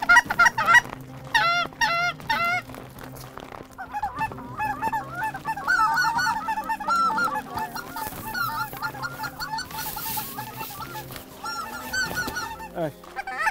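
A low-flying flock of geese honks loudly and continuously, many overlapping calls close by in a busy, clamorous chorus with no speech.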